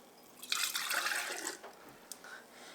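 Turkey broth pours into canning jars with a soft, close splashing and trickling for about two seconds, followed by a few faint drips.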